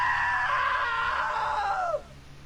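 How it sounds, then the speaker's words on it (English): A single long, loud scream from a video game that wavers in pitch and then drops off sharply near the end, alone over a faint steady background hum. "Now that was a great scream."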